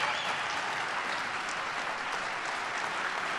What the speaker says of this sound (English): I should get some applause on that, too.